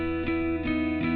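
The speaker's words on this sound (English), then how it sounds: "Just add a little bit of reverb." Electric guitar played through the BIAS FX app with reverb, three sustained chords struck about every 0.4 seconds, each ringing into the next with a wash of reverb, loud and alone.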